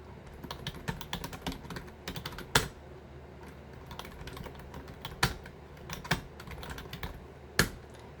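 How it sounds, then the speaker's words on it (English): Answers are typed on a computer keyboard in a rapid, uneven patter of close key clicks, with a few louder strokes standing out and no one speaking. "I'm just going to type your answers in"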